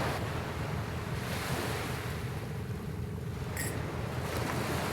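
Sea waves break against the shore in a steady, loud roar, mixed with heavy wind buffeting the microphone. No one speaks.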